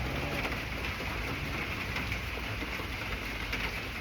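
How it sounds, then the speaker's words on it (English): Steady rain falls outside on a Florida day. The even, continuous hiss stays soft and unbroken, with faint bird cooing in the background and no talking. "So it's raining."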